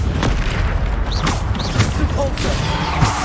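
Bombarda spell blasts from the video game Hogwarts Legacy come as several loud, booming impacts with mechanical creaks over a dense, continuous game soundscape.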